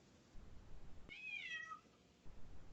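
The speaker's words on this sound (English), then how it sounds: "Oh, can you hear my cat?" A single drawn-out cat meow, clear and fairly close, rising then falling, set against quiet room noise.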